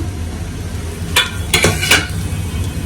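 Dried fish (shutki) dry-roasting in a pan for a bharta, heard as a few close metallic scrapes and clinks of a stirring utensil over a faint, steady sizzle.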